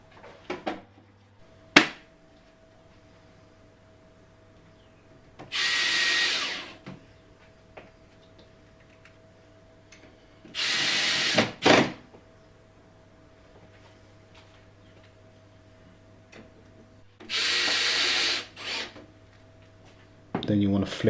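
A power drill drives screws into the bottom panel of a kitchen drawer in three separate whirring bursts of a few seconds each, with quiet pauses and faint clicks between them.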